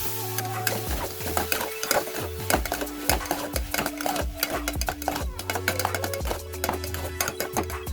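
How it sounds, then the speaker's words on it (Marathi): Food being stir-fried quickly in a pan, with rapid clattering of a spatula or ladle against metal, scraping and tapping close by, over a steady hum from a stove or appliance. "हे असं आपल्याला सगळं परतवून घ्यायचं हे फास्टमध्ये परतवून घेतो"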